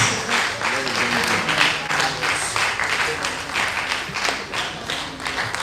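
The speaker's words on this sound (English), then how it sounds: "A better round of applause for him," A university advisors' workshop audience gives a round of applause, dense clapping from many hands crackling steadily throughout, with some talking mixed in.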